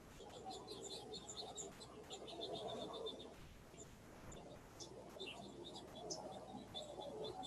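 Birds chirp and tweet in natural outdoor surroundings on a November morning, with faint, scattered high calls repeating throughout over a soft, steady background hum.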